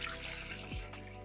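Water poured into a container to start a poolish or biga pre-dough: a steady, hissing splash with a brief gurgling drop in pitch partway through, close and fairly quiet.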